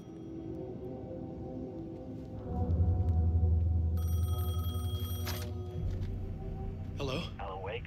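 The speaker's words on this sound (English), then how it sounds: "Phone was ringing." A telephone rings in the video game Alan Wake 2, with a steady electronic ring pattern over a low, droning ambient game soundtrack, followed near the end by faint voice-like sounds.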